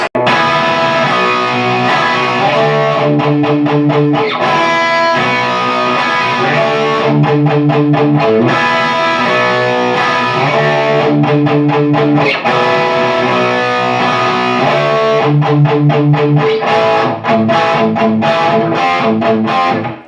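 Heavily distorted electric guitar plays the break of a song, a chugging rock riff with sustained chords and rhythmic stops, loud and dense throughout.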